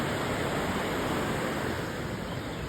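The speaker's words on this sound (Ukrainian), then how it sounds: "Річка." Steady, loud broadband rush of a flowing mountain river heard from a footbridge in the mountains, continuous and close with no break across the whole stretch.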